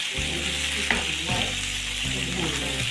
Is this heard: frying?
yes